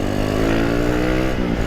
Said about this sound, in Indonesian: Itu motor apa itu? CC-nya cukup besar kayaknya.